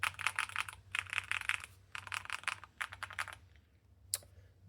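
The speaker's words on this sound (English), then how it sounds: "I think the sound profile of this keyboard is pretty good." Rapid clacky typing on a mechanical keyboard comes in bursts, close and crisp, then stops, followed by a single sharp click.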